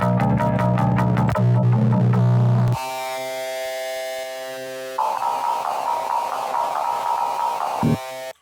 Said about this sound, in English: direct input from the bass guitar straight to the sound card, when you record like that, it comes out really